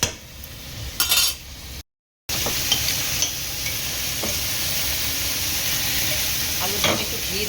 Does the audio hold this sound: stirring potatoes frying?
yes